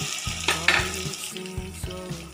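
Cumin and chili paste with salt and turmeric frying in a pan, a loud continuous sizzle with rhythmic clacks of a spatula against the pan as it is stirred.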